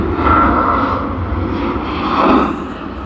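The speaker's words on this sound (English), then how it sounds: "we do see the departure of UPS here on screen" UPS cargo jet departing Sydney Airport, a loud, steady engine roar with a broad rumble that swells slightly toward the end, with no talking.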